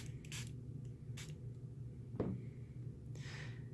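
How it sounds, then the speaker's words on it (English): Two short hissy sprays from a bottle of solution onto a screen protector, close by, with a brief squeak between them over a low steady hum. "we're going to give it a nice spray on the portion that's going to be sticking to the screen"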